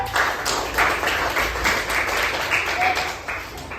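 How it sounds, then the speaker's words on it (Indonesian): A classroom of students clapping for a presenting group, a steady patter of many hands at moderate loudness with some voices mixed in underneath. "Kasih tepuk tangan untuk kelompok 3"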